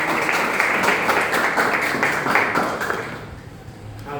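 An audience at a trustee's birthday celebration claps together in a dense, steady round of applause that fades toward the end, close and fairly loud.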